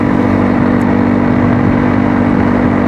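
Steady motorcycle engine drone on loose gravel, an adventure ride in Australia, the bike fitted with reworked front suspension; loud, continuous and close, with a constant low hum and crunching road noise throughout.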